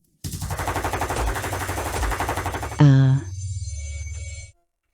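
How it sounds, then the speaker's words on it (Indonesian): Rapid gunfire from a fantasy action scene in which a gravity-controlling character faces bullets; a dense, loud burst of shots for about two and a half seconds, then a sharp whooshing impact and a lower sustained rumble. "Tembak. Semua tembak buat gue."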